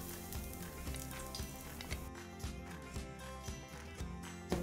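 Garlic sautés in hot oil in a home kitchen, a steady sizzle with faint stirring scrapes and clinks, fairly close and continuous.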